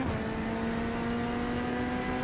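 A 3-cylinder Hyundai race car engine drones in the iRacing simulator, holding a steady, buzzy tone with a constant low hum under it and no voices.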